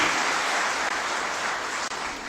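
An audience at a conference in Karachi applauds in a dense, continuous burst of clapping that fills the room for a couple of seconds.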